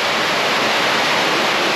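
Heavy rain pouring down, a dense, loud, unbroken hiss filling the whole moment with no talk.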